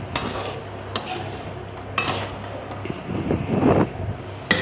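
Dry fish stirred into a curry in a pot, a spoon scraping and clinking against metal in a few separate strokes, close, with a faint simmering hiss between.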